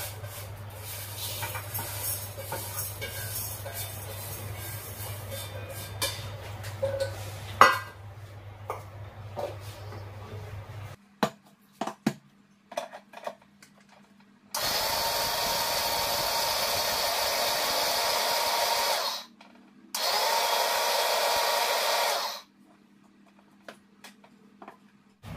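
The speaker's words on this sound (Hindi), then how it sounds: "मैं इस मसाले को पीस देती हूँ अचार वाले मसाले को।" A kitchen mixer grinder grinds a homemade pickle spice mix in two loud, steady bursts of roughly four and two seconds, separated by a short pause, following quieter clicks and handling sounds with no talking.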